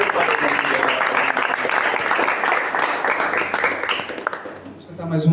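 A church congregation breaks into loud, sustained applause during a worship service, many hands clapping in a thick wash that eases off near the end before a brief sound cuts in.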